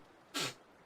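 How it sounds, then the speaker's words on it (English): A single short sneeze, one quick burst that is fairly faint and isolated against a quiet background. "Sneeze."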